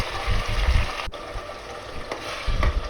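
Tomato-onion puree hits a hot pan of oil holding bay leaf, cloves, cardamom, cinnamon and peppercorns, giving a steady broadband sizzle with a low bubbling churn and one sharp splattering crackle partway through, close and continuous with no talk.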